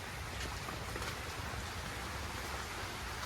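Quiet, steady rain falls on a cattle farm, a soft even wash of drops with no voices and no other sounds breaking through.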